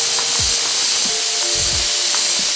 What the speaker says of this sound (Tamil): குக்கரில் சத்தம் வருது.